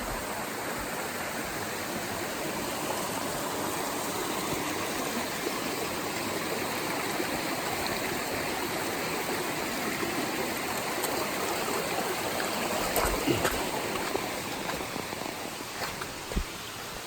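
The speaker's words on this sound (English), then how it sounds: "Let's see if I can get across this river, the raging river." A raging river on the Appalachian Trail rushes in a steady, loud broadband roar throughout, with no voices over the continuous churning water.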